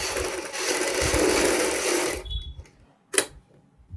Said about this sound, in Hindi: इनमें हम बाहर की साइड एक पैर की सिलाई लगाएंगे इस प्रकार